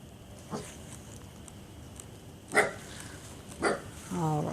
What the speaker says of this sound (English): She's just barking.